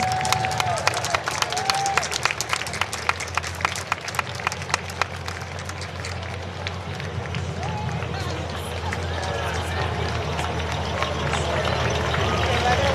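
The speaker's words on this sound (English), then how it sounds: "Big round of applause" Parade spectators at a Veterans Day parade clap steadily for passing Army ROTC cadets, sustained crowd applause with scattered sharp claps and murmuring over a constant low vehicle rumble.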